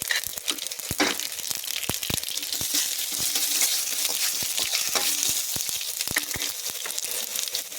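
Cumin, urad dal and mustard seeds sizzle and crackle steadily in hot oil as a tempering for a brinjal fry, a loud, dense hiss with sharp pops throughout.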